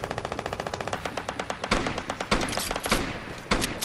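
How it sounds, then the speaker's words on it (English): The holy infantry rifle fires in a video game in fast, steady automatic bursts of sharp, loud reports, with a few heavier shots breaking the rhythm near the end. "It's the holy infantry rifle."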